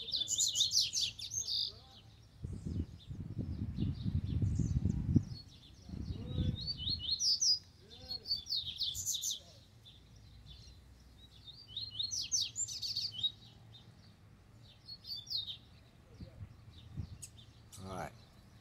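A free-flying coleiro, or double-collared seedeater, outdoors near a cage, gives repeated bright high-pitched chirps and song phrases in bursts. Someone speaks at times underneath and between the calls.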